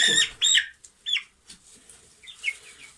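A 21-day-old broiler chicken clucks and squawks in short bursts, close by, with quieter chirpy calls toward the end; no talking.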